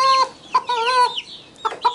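A hen clucks and cackles near the microphone in a few short bursts with brief pauses, a close, fairly loud farmyard fowl call with no talking.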